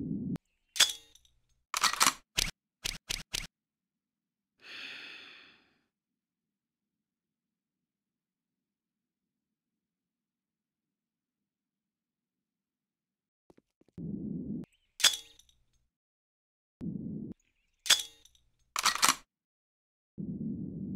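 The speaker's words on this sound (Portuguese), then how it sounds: "Tá dando um tiro aí, ó" Gunshots in a competitive video game match ring out as sharp, close cracks in two clusters of quick single shots, separated by a long quiet gap, with some low rumbling in between.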